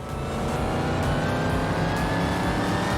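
A tuned BMW M3 engine in the Car Mechanic Simulator 2021 video game, running loud and close in a steady, throaty roar with a slight rise in pitch, heard alone.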